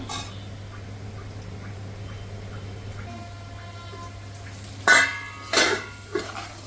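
Paneer fried rice being stirred in a pan over a quiet steady hum, then a few sharp metallic clanks of a spoon against the pan near the end, close and distinct.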